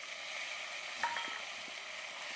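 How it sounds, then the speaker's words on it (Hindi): Tomatoes added to a pan of cooked vegetables for chuda upma, a soft continuous sizzle with a small clink of a utensil midway. "इसको टमाटर डाल रहे हैं।"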